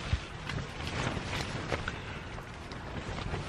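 Strong wind at a campsite in Cornwall in July, a constant rough roar buffeting the microphone with gusty rumbling throughout, loud and close.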